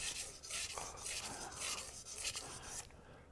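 A knife blade is drawn back and forth across a hard synthetic Japanese whetstone of about 1,000 grit with light pressure, making steady rhythmic gritty scraping strokes, close and fairly quiet.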